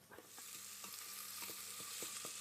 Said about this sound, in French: il faut faire suer les échalotes quelques instants